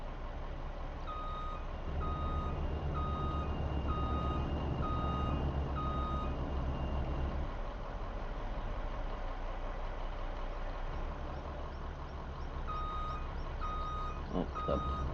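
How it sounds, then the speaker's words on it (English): Repeated reversing beeps from a tow truck in Farming Simulator 25 as it hauls a semi truck, pulsing steadily over a continuous idling diesel engine drone, with no talking. "This is when it's gonna start pulling the semi truck."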